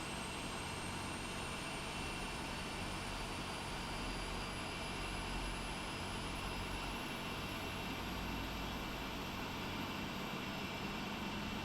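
PMDG 747-400 jet engines spooling up in a flight simulator, a faint steady airy roar with a thin high whine slowly rising in pitch throughout.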